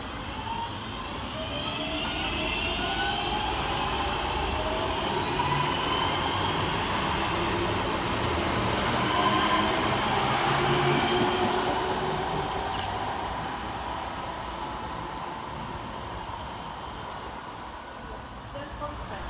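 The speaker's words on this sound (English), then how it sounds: "323236, departing 6 minutes late with a 10:18 northern service from Stoke-on-Trent to Manchester" Electric multiple unit 323236 pulls out of Macclesfield railway station on a northern service to Manchester, a sustained rising traction whine and rolling rumble that swells and fades over nearly twenty seconds.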